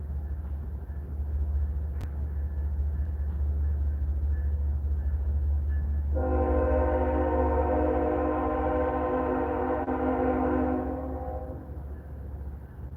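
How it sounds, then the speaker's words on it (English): A train rumbles steadily nearby and then sounds a long, sustained horn blast for about five seconds before the horn stops and the low rumble fades slightly. "Maybe that's a big train that comes through."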